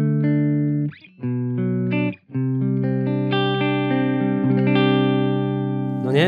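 Clean electric guitar played through a Taurus SH7 Apogee floor amplifier with treble turned down, sustained chords and single notes ringing clearly with slight reverb, a few brief pauses between phrases and no talking.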